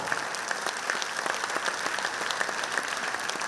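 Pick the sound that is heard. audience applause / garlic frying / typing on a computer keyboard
audience applause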